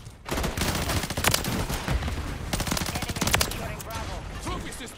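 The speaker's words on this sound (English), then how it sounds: "Taking effective fire." Dense rapid gunfire from a Modern Warfare 3 multiplayer match on the Shipmas map, bursts of automatic fire crackling nearly nonstop for five seconds, loud and close with sharp peaks and no speech.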